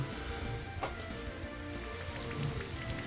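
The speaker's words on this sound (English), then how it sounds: "I can get the Rain Dance up" Steady, soft patter of rain from the Rain Dance move in Pokémon Brilliant Diamond/Shining Pearl, a continuous hiss of drops at low level with a faint background hum and no talking.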